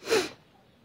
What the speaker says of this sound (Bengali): হাঁচি কাশি শুরু হয়ে গেছে।